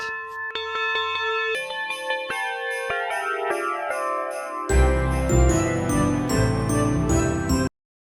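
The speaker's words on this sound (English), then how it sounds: "I think I will use the church bells for that" Church bells ring in a layered, resonant peal, one overlapping toll after another, growing fuller before cutting off abruptly.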